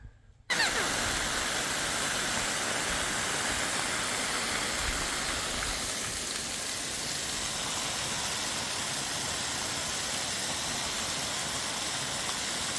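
Water from a hose sprays steadily onto a Lippert Solera RV awning, a loud continuous hiss starting suddenly and running unbroken for several seconds.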